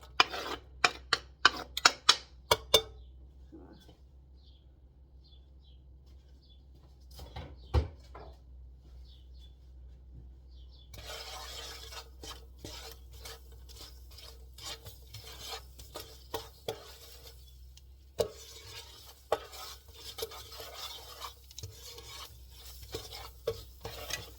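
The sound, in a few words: onions put into pan and frying for lamb casserole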